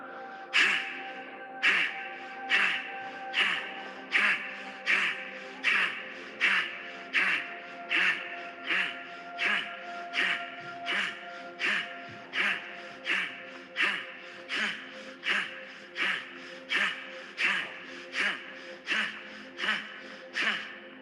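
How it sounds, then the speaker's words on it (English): Rapid, rhythmic breathing from a meditation group doing a set of thirty deep breaths, each sharp inhale and exhale repeating steadily about once per second, close and loud with no talking. "We are going to do 3 sets of breathing, 30 times each."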